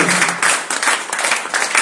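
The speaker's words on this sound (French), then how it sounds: "Applaudissez pour la sœur Nicole." Church congregation clapping during a Friday worship service, a loud, close burst of many hands with a slightly pulsing rhythm, filling the short stretch without voices.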